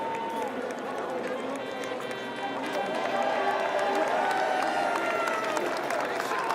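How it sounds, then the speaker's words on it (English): A large crowd at the Vendée Globe dock out in 2024 shouts and cheers in a steady, swelling roar with scattered clapping. Commentators speak over it throughout, and the noise grows louder partway through. "they didn't have this shouting and cheering and the volume"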